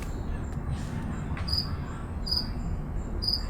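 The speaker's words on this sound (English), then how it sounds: "there's a cricket like right over there somewhere" A single cricket chirps nearby in short, bright, evenly spaced bursts over a steady low background hum, with no talking.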